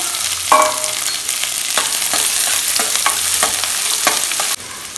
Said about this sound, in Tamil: எண்ணெய் காஞ்சி வச்சுப்பா லைட்டாக சோம்பு போட்டுக்கலாம் வெங்காயம் கட் பண்ணி வச்சுட்டு